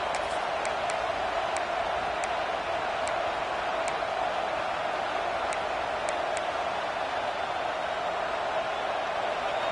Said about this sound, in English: This crowd bringing serious noise on this huge, huge 4th down play